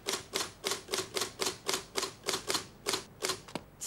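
A mechanical typewriter clacks with about a dozen evenly spaced keystrokes in a quick steady rhythm, close and fairly quiet, with no talking.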